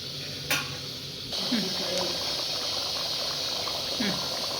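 Water boils in a pot of dal on the stove, giving a steady bubbling hiss with a few soft clicks and pops throughout.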